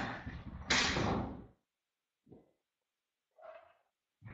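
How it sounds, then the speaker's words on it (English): A door being closed, a short loud bump and slide at the start, then a few faint, widely spaced knocks and rustles in near silence. "Give me just a minute to close the door"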